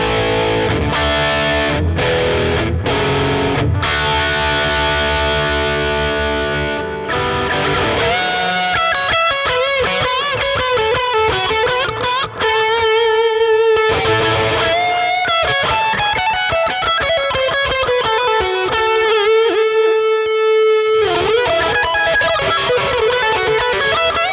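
Electric guitar played through a Digitech RP500 multi-effects unit on its dirty channel with a JCM 900 amp model, giving heavy distorted chords and then sustained lead notes and riffs, loud and continuous with no talking.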